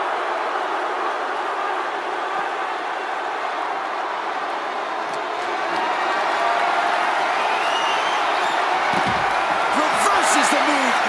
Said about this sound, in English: Every person in this capacity crowd is on their feet.